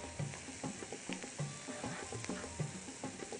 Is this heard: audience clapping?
no